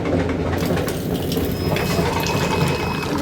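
Aloe vera juice is poured into a glass, a continuous close liquid pour lasting a few seconds over a dense background hum.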